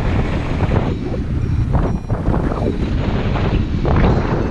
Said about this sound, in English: all the wind funneling through that gap